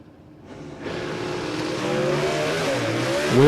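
A SuperComp Cavalier drag race car makes a solo pass, its engine note building loud and steady as it launches and pulls away down the strip, with a brief tire chirp near the end.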